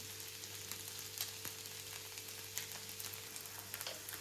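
Sabudana khichdi sautéing in a pan, a steady close sizzle and frying hiss with faint stirring scrapes, no voices.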